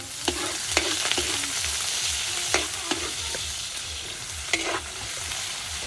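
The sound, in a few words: sautéing giant squid in a pan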